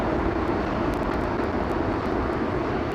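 A landing aircraft on approach to Heathrow runway 27L, a steady deep rumble with heavy bass, continuous and loud throughout, with no voices.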